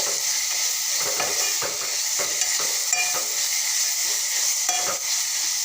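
Amaranth greens (math bhaji) sizzle in a hot pan as a spatula stirs them, scraping and tapping at irregular intervals over a constant frying hiss, close up and without talk.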